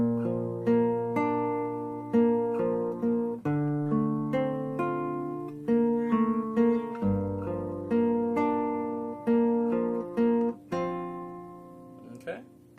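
Fingerpicked acoustic guitar plays the intro of a song, a steady run of plucked notes and chords with clear picked attacks and ringing sustain, played alone with no talking.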